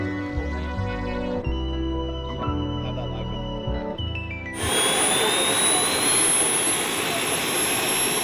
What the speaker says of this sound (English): This one again has more of like an accurate turbine engine.